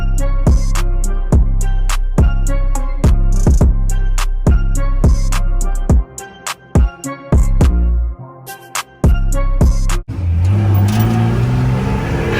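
A Chevrolet C20 truck driving hard on a street, loud and close, its engine rhythmically revving and surging with repeated sharp pulses, then dropping off into choppier bursts before a rougher rumble at the end.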